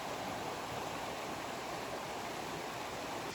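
A cold river rushes steadily right beside an open-air hot spring, a dense, even wash of flowing water with no talk over it.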